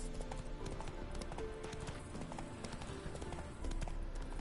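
Hooves of Geralt's horse Roach clip-clopping at a steady trot in The Witcher 3: Hearts of Stone, a continuous rhythmic patter of hoofbeats at moderate volume with no talking.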